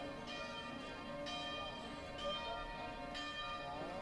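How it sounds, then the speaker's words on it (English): Bells in a church dome ring out a melody, with resonant tones struck at intervals over a steady wash of outdoor ambience. They sound somewhat distant and moderately quiet. "This dome plays a melody with its bells."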